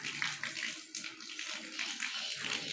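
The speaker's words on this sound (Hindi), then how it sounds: "ये देखिए पानी निकलता है जी यहाँ से, पता चल जाता है टैंकी जो है हमारी फुल हो गई है" Water pours steadily from a pump-fed pipe overflowing a full water tank in a Pakistani village home, a continuous splashing gush heard close and fairly loud, with no talk over it.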